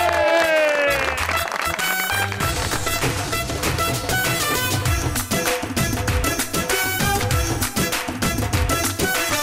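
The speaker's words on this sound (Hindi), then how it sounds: "आपकी भरपूर तालियों में please welcome the legendary one and only Wasim Abbas." A studio audience on a Pakistani TV comedy show applauds to welcome a guest, a steady wash of clapping and crowd noise mixed with loud entrance music throughout.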